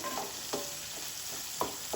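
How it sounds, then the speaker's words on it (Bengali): Gentle sizzling of onions frying in a pan with a few soft scraping stirs, quiet and close, no voices. "এই পেঁয়াজটা এখানে দিয়ে দেবো। এগুলো সবই হালকা হালকা ভাজতে হবে"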